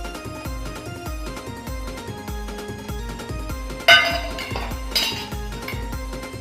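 Spice powders, salt and masala being mixed in a metal bowl for prawn lollipops, a steady run of light clinks and scrapes with two louder knocks near the end.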